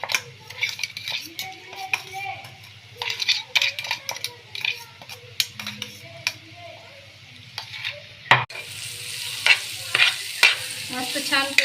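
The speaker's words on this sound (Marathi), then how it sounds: "मी आता ही वाटलेली चटणी तेलामध्ये फ्राय करून घेणार आहे।" Ground green pea chutney frying in oil over low heat, a spatula scraping and clinking against the pan in repeated strokes over a light sizzle that turns louder near the end, with speech in places.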